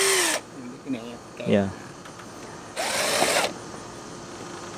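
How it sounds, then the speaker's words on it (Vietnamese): A power drill bores a hole using a small compact drilling guide, with two short high-pitched whirring bursts separated by brief speech, close and loud. "Để mình khoan nó không có bị lệch cái lỗ khoan của mình."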